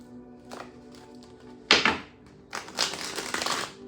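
Tarot cards being shuffled during a live reading, with soft riffling and papery taps followed by louder bursts of card-on-card flicking close to the microphone.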